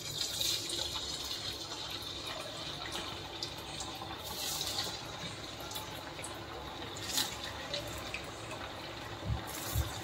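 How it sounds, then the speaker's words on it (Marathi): Sabudana vada, sago fritters topped with cashews, deep-frying in hot oil in a small kadhai, giving a steady, fairly quiet hiss and crackle throughout with occasional sharper pops and no talk. "आता तळायला घेऊया."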